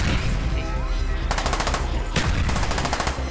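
Rapid automatic gunfire from the Call of Duty: Black Ops video game rattles in loud, dense bursts, with a fresh volley cutting in partway through over a constant wash of combat noise.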